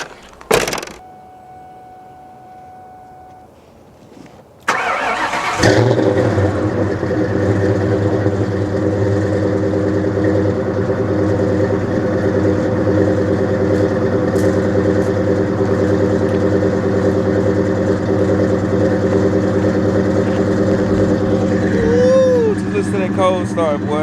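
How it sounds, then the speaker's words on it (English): A Mustang GT car engine cold-starts with a sharp crank and catch, then settles into a steady, loud, close rumbling idle that holds for about twenty seconds, with someone talking before the start. "I'm gonna let y'all hear a cold start of it"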